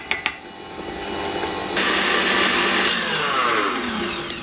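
Electric mixer running through banana cake batter as flour is added, two sharp clicks first, then a steady whirring drone that rises and shifts in pitch as the speed changes, close and continuous.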